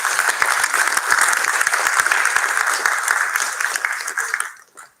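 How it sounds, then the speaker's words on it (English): A crowd at an Arangetram dance debut applauds loudly with dense, sustained clapping that carries on steadily and then fades out in the final second. "Give them a nice round of applause."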